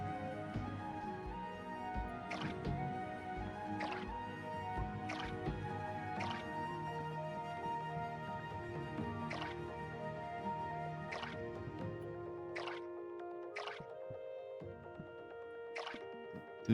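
Watering can sprinkling crops in Core Keeper, a series of bright separate drips and splashes roughly every second over a soft liquid wash, quiet and close.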